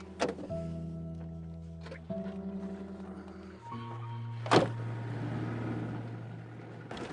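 Power windows hum inside a car as their electric motors whir in a few steady runs, one ending in a sharp thunk, over a low, constant engine and road drone.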